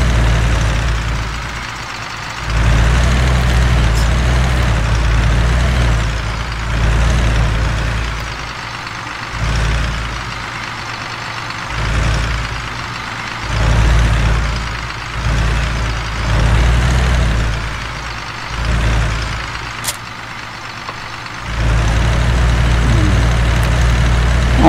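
A tractor engine runs while the machine is being moved, a steady low mechanical rumble that rises and dips repeatedly as the throttle changes, close and loud with no talking.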